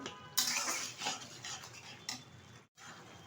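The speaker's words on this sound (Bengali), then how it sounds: "আলুটা একটু ঘেটে দিচ্ছি" Boiled potato mashed with a spoon into a shrimp and Malabar spinach curry in a metal pot, giving repeated close scraping and clinking strokes with a brief pause near the end.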